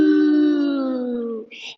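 A person imitates a cow with a single low, drawn-out moo that slowly falls in pitch, ending with a short breathy sound.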